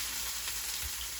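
Onions frying in hot oil in a heavy saucepan alongside potatoes, a short burst of steady, bright sizzling heard up close with no voices.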